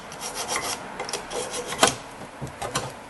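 A metal file rasps back and forth across rusty brake hardware on a 2008 Toyota Highlander, scraping to clean the surface; repeated close strokes in an uneven rhythm, one sharper scrape near the middle, no talk.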